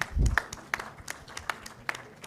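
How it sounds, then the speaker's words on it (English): Audience at a low-carbon cities forum gives a sparse, scattered round of clapping, individual claps spaced out after a low thump at the start, thin and fairly close. "Guys, please clap"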